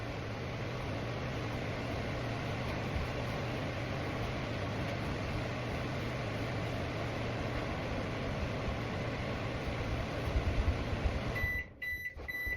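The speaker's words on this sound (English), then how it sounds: "So we'll be throwing this in the microwave for a little while." A microwave oven hums steadily for several seconds, then a few short high beeps sound near the end as it stops.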